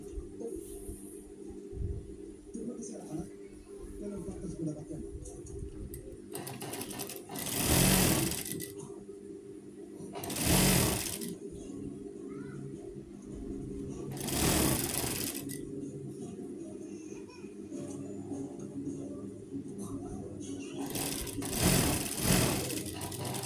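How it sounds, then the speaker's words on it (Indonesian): A sewing machine stitches in several loud, rapid bursts lasting a second or two each, separated by quieter stretches of low hum and handling noise, close to the microphone. "hobi saya ya menjahit seperti ini ya"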